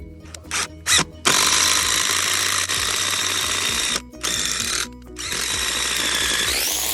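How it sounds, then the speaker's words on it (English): A power drill with a 1/2-inch bit whines at high speed close by, pre-drilling wood for a gate bolt, starting with a few short bursts, then running in long steady stretches with brief pauses. "I'm gonna drill out, pre-drill using a 1/2 inch"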